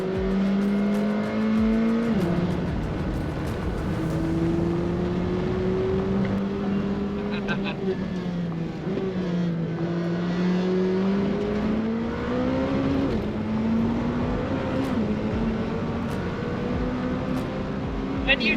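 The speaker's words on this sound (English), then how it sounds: "I love that we're just following the AMG GT3 car." A race car on a track day, following an AMG GT3, its engine droning steadily, pitch rising and dropping as it shifts and accelerates, with talk faintly underneath.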